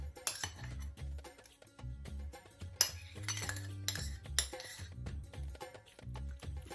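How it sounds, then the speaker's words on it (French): Utensils clink against a bowl while soy skewer marinade with cheese is mixed, giving repeated light metallic taps and scrapes at close range over a low background hum, with no talking. "Mélanger le tout."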